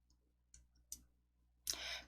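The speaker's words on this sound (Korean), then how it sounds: "새 프레젠테이션 클릭" Quiet computer mouse clicks while selecting a new presentation in PowerPoint: two faint isolated clicks followed by a slightly louder click with a brief trailing rustle, in near silence.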